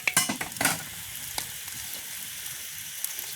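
Food frying in a pan in a village kitchen, stirred with a few quick scraping strokes at the start, then a soft, steady sizzle continuing alone, faint and close.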